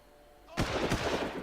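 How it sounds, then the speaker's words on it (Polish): Gunfire in the first-person shooter Far Cry, a loud sudden burst of shots starting partway in after quiet ambience, with sharp repeated cracks and thumps sustained to the end. "Przełączmy sobie na pojedyncze strzały."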